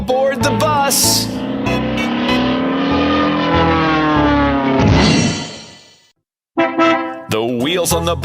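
A cartoon bus engine starts and revs up in a long rising, bright tonal roar, fades away to silence, then brief bursts of engine and music-like sound return.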